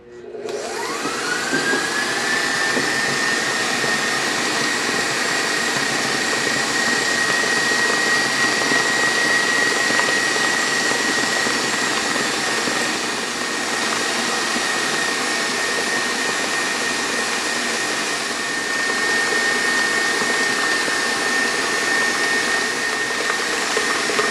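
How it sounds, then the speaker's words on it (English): A stand mixer runs steadily for the whole stretch, whipping butter into Italian buttercream icing with egg whites, a constant loud whirring motor hum that rises to a sustained whine early on and holds without talk. "I'm gonna scrape down the walls of the mixer just to make sure I've got all the butter and all the egg whites mixed into it."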